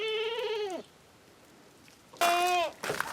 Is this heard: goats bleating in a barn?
yes